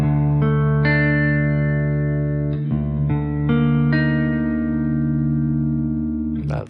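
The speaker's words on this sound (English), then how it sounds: "if it was in Phrygian, then it would have a flat 2 and a flat 6" A distorted electric guitar riff in Phrygian mode with flat second and flat sixth, sustained ringing chords shifting at a few points, then a short scratchy noise as it cuts off.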